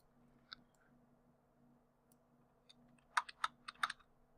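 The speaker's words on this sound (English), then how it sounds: "I'm going to do on my keyboard Control W" A computer keyboard has keys pressed for a copy shortcut: one lone click early on, then a quick cluster of five or six crisp, close clicks near the end, with nothing else heard.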